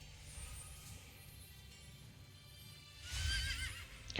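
A horse in the video game Drakensang Online whinnies once near the end, faint under a steady ambient game soundscape, with a soft swell of hoof or movement sounds just before.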